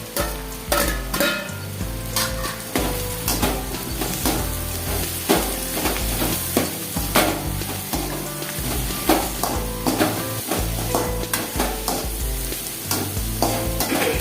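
About 200 grams of chopped mushrooms sauté in a pan, a continuous loud sizzle broken by frequent rhythmic knocks and scrapes of a spatula stirring them, with no voices.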